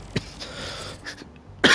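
Someone coughs several times in short bursts, with the loudest cough at the end, over a quiet background while they are sick and playing Marvel's Spider-Man 2.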